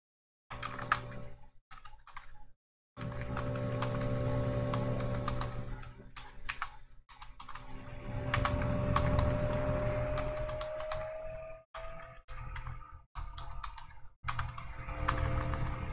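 Code is typed on a computer keyboard in a C programming session, with quick irregular key clicks running through a steady background hum, broken by short pauses and no talking.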